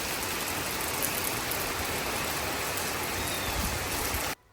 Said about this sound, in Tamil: இந்த வாரம் ஃபுல்லாகவே மழை பெஞ்சிட்டே தான் இருக்குது.